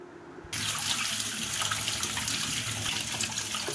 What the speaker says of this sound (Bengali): মাশরুমটা ধুয়ে নিলাম ভালো করে।